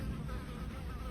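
Flies buzzing around pork belly burgers and burnt ends at a barbecue smoker, a continuous close droning whine that holds steady throughout, with no talking.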